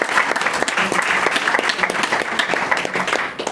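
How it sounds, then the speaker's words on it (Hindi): Sustained, dense applause from an audience at a devotional satsang gathering, many hands clapping steadily and loudly throughout for a birthday tribute. "तो इनके लिए जोरदार ताली।"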